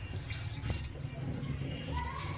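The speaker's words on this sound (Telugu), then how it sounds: "కొంచెం వాటర్ వేసుకుంటూ ఇంకొకసారి తిప్పుకుందామండి" Water is poured over fish pieces being washed in a bowl, a low sloshing and dripping wash with soft splashes and a brief trickle toward the end.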